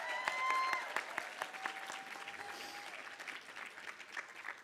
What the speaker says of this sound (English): let's give one final round of applause for everything you've done this year